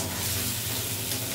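Boiled potatoes dropped into hot oil with asafoetida, a steady close sizzle filling the brief moment.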